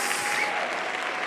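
Sunday church congregation applauding the King of Kings: a full, even roar of clapping from many people, steady throughout and moderately loud, with a brief faint whistle-like tone riding on top.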